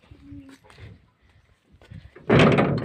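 A door is shut and locked at a home as a family prepares to leave for the hospital; scattered light knocks and quiet voices lead to a loud, close slam near the end.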